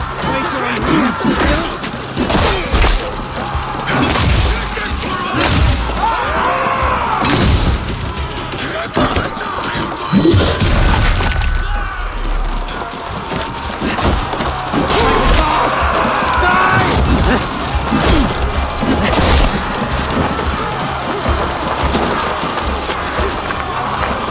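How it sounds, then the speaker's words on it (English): Battering ram smashing through gates during a siege in Assassin's Creed Valhalla, heavy booming crashes and impacts repeating amid battle noise and shouting voices, loud and close throughout. "We need to open these gates! Charge! Put that glorious ram to use!"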